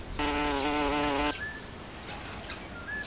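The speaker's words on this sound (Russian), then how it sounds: "Это шмель. Разновидность пчелы." A loud, close bumblebee buzz with a steady harmonic drone lasts about a second, then cuts off, leaving faint outdoor background and a couple of soft chirps.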